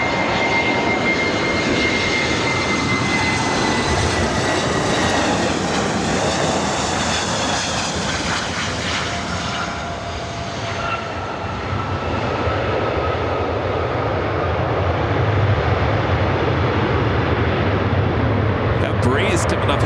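Airbus A220-300 jet taking off on the north side at LAX, a loud sustained engine roar with rising whine tones, steady and close, with talk over it.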